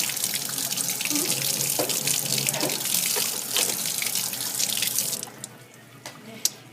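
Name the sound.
rinsing metal piece under sink tap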